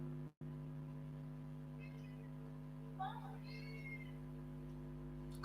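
A domestic cat gives a couple of brief, fairly faint meows over a steady electrical hum, with a short dropout near the start.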